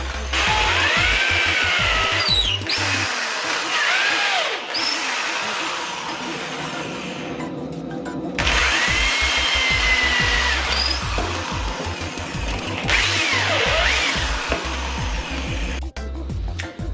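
A power drill bores holes into a wooden lamp piece in long whining bursts with brief pauses between, loud and close, no talk.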